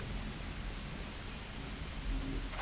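Steady hiss of heavy rain falling throughout a stormy scene in the survival game Miscreated, with a faint low rumble swelling near the end; no talking.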